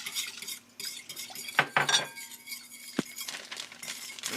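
Eggs and coconut milk are whisked in a bowl with quick, light scraping strokes and a few sharp clinks of utensil against the bowl, close and fairly quiet.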